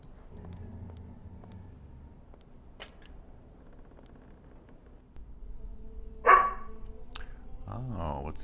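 A dog barks in the adventure game Syberia II, a single sharp bark at moderate distance over a low ambient game background with quiet sounds around it.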